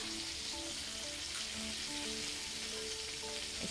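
Kerala-style halibut fillets fry in hot oil in a pan, giving a continuous loud crackling sizzle with dense popping throughout, close up and without talk.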